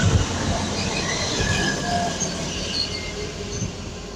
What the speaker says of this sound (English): And also arriving in is a Transpennine Express service to Liverpool Lime Street from Newcastle.